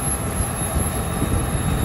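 Aircraft propellers spinning at full speed give a steady, dense roar that fills the whole clip without a break, loud and continuous with no voices over it.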